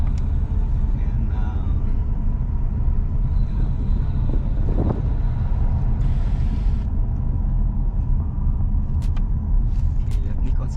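A car drives down a mountain road in Great Basin National Park, with a loud, steady low engine and road rumble and some wind buffeting, and a voice talking over it.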